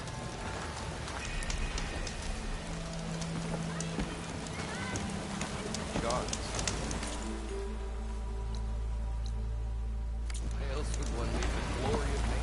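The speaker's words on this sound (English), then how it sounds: "Rain once again." Steady rain falls in the video game Horizon Forbidden West, a constant hiss under the clip-clop of a mount's hooves, with a voice speaking over it.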